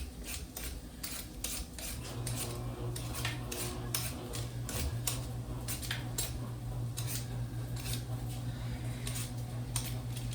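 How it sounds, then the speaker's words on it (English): A worn vegetable peeler strips the skin from a butternut squash in quick, repeated rasping scrapes, close and steady, over a constant low background hum. "is peeling the squash. Make sure you have a good peeler."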